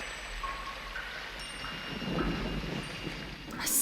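Steady rain falling over a city at night in the film Blade Runner, a soft hissing wash with faint rumbling beneath and a few thin tones drifting through, swelling slightly toward the end.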